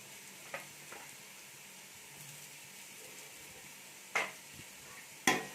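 Browned onions sautéing in a pan for mushroom biryani as red chili powder goes in, a faint steady sizzle under a few scraping stirs and spoon clinks.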